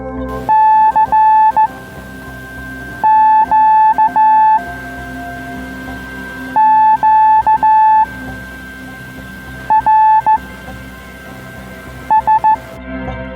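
Bursts of steady electronic tones in short groups, separated by pauses, over a constant hiss of radio static: an amateur radio transmission on the 80-metre band.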